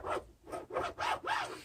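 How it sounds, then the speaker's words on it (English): Knife cutting a scamp grouper fish in half with four quick rhythmic sawing strokes, close and quiet, each one a short rasping scrape. "we'll take our fish. Again, just kind of cut it in half."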